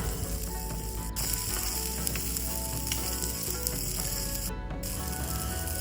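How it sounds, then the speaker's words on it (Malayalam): Peeled small onions sizzle steadily in hot oil in a pan for a Kerala fish curry, a dense, even frying hiss with faint stirring clicks throughout and no voices. "എണ്ണ ഒന്ന് ചൂടായതിന് ശേഷം നമ്മൾ നേരത്തെ തൊലിച്ച് വെച്ചിരിക്കുന്ന ചെറിയ ഉള്ളി ഇടേണ്ടതാണ്. നല്ലപോലെ വഴറ്റിയെടുക്കേണ്ടതാണ്."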